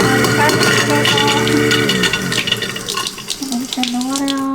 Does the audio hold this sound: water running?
yes